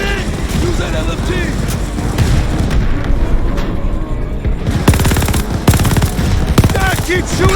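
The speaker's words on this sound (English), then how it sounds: "Use that LMG!" Sustained light machine gun fire in a combat video game roars close and loud, rapid bursts layered with booms and battle noise throughout, with shouted voices mixed in.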